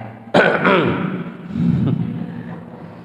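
A throat clearing sound, a short harsh burst followed by a second rasp, close and fairly loud, then a low murmur.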